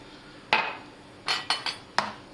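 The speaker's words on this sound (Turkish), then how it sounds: "Daha sonra malzemelerimi iyice karıştırıyorum." Ingredients being mixed with oil in a mixing bowl for a roasted eggplant salad, a few sharp clinks of a utensil against the bowl, one single knock and then a quick cluster of three, close and fairly loud over quiet background.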